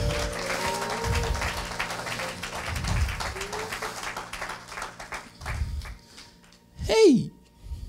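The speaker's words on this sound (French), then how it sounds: "Clap for the Lord." A church congregation clapping for the Lord, bursts of claps and cheering at a worship service alongside ongoing talk and a sustained musical tone, ending in a loud shout.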